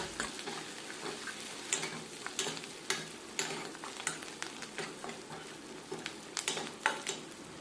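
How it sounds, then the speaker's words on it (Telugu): Ginger and tempering seeds fry on a low flame, with a soft steady sizzle under frequent sharp clicks and scrapes of a spoon stirring in the pan, close and quiet. "ఇప్పుడు వీటిని కూడా లో ఫ్లేమ్లో వేపుకోవాలి."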